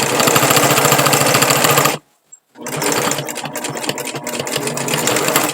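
Sewing machine stitching folded fabric scraps for a patchwork rug, a loud fast rattling run that stops for a moment of silence, then starts again with steady mechanical chatter, close up.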